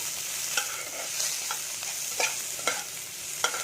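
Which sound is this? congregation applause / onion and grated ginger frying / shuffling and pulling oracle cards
onion and grated ginger frying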